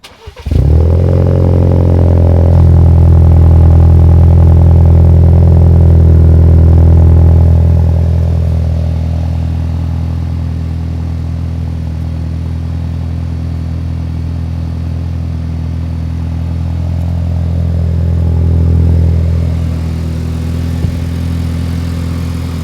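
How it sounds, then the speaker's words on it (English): A Ford Ranger engine with a muffler-deleted exhaust idles loud and close, a deep steady rumble that swells in the first seconds as it is revved, then settles to a lower even drone with a brief rise near the end. "I will go ahead and put a clip in here of what my Ranger sounds like now"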